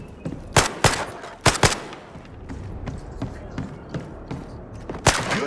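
Gunfire at a shooting range in a video game comes as sharp, loud single shots and quick pairs spread unevenly across the stretch, with quieter background clatter between them.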